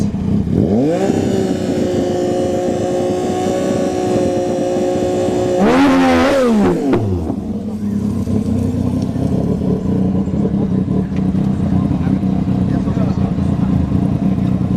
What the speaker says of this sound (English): Gixxer 1000 in the right, the nitrous Yamaha bike here on the left